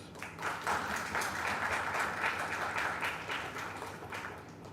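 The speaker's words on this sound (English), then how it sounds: "So why not a big round of applause for these two professors." An audience at an academic summer school in computational linguistics applauds steadily, a dense wash of clapping that holds for several seconds without voices.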